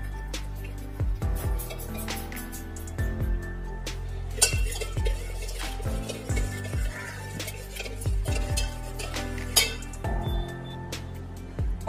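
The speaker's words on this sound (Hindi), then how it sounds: "अब पहले हम इसे थोड़ा फेटेंगे।" Yogurt being whisked with salt and ground green spice water in a bowl for masala chaas, giving a steady run of light clinking, scraping strokes against the vessel, close and moderately loud with no talking.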